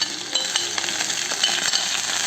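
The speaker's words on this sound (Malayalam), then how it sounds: "അതാ ഒരു പച്ച മണം മാറുന്ന വരെ ഒന്ന് വഴറ്റിക്കിട്ടാം" Green chilli, ginger-garlic paste and curry leaves sauté in hot oil for homemade mango pickle, giving a close, dense sizzling hiss broken by faint clicks of stirring.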